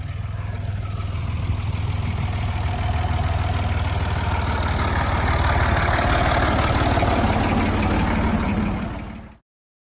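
A tractor engine idles steadily nearby, a low continuous rumble that holds for several seconds before cutting off abruptly.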